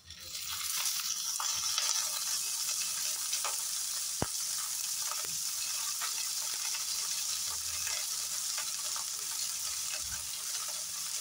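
Cashews, peanuts and garlic fry in oil for chutney, a steady loud sizzle with occasional scrapes and clicks of stirring, no voices.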